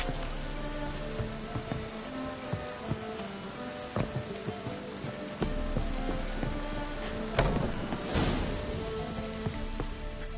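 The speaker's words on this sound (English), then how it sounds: "It's raining again." Rain falls steadily in The Witcher 3 video game, a dense, constant patter on surfaces with scattered louder drops throughout and no voices.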